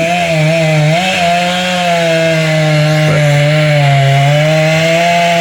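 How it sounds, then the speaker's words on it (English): A chainsaw runs loud and steady, cutting a downed tree after Hurricane Helene, its buzzing engine holding a constant pitch with a brief dip as it bites into wood, the bar too short for the trunk. "That blade ain't quite long enough for this this chainsaw blade."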